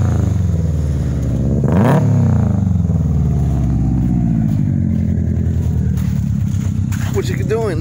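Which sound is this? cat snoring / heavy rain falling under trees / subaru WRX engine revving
subaru WRX engine revving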